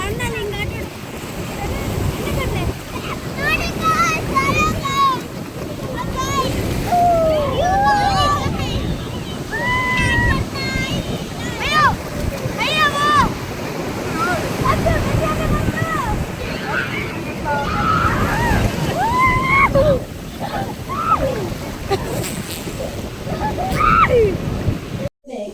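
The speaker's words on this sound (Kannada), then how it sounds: "ದೊಡ್ಡ ದೊಡ್ಡ ಅಲೆ ಬರ್ತಿದೆ ನೋಡಿ." Big ocean waves break on a beach at Gokarna in a windy, constant roar with gusting microphone noise, while excited voices of people playing in the water carry over it throughout.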